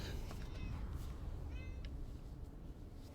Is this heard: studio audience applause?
no